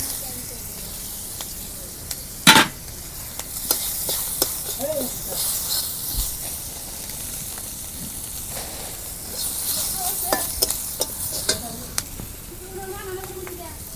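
Chopped onion frying in oil for a pomfret fish curry, a soft sizzling hiss underneath a voice talking, with a sharp burst of spitting early on.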